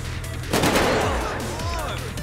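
Bursts of gunfire from a zombie mod of the video game GTA 5 crack out in a loud, dense volley, then thin into scattered shots while a voice talks over the tail.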